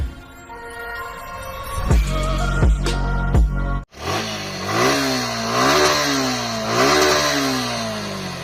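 A 2024 Suzuki Gixxer SF150 motorcycle engine is blipped in a few sharp revs, cuts out briefly, then restarts and idles with repeated rising and falling throttle swells, loud and close.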